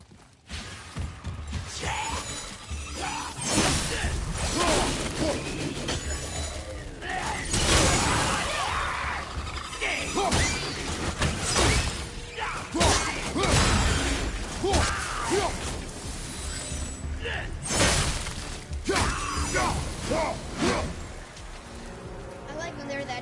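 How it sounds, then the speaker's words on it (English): Objects shattering in God of War, loud crashing and breaking bursts with debris and clattering mechanisms over a steady game soundscape, repeated several times across the stretch. "I will never get tired of shattering things with this."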